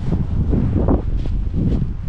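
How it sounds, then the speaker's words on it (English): Strong wind buffets the microphone outdoors around Signal Hill in St. John's, a continuous loud rumbling roar with gusty swells and no clear voices. "It's very windy."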